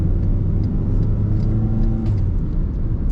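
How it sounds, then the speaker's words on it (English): A 2020 MG3 hatchback engine revs steadily as it runs through gear changes in sports Tiptronic mode, heard from inside the cabin as a loud, continuous low droning hum that rises slightly in pitch, with no talking. "You can have a play with the gears if you want"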